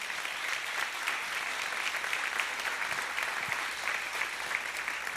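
A church congregation applauds during a celebration service, with steady, even clapping from many people filling the room for several seconds, with no voices over it.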